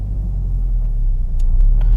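A 2018 Chevrolet Camaro ZL1 1LE pulls away with a steady, close low engine rumble that builds slightly, with a few faint clicks near the end.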